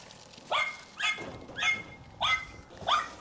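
A small dog barks five times in an even rhythm, the yips close and fairly loud, with no talking.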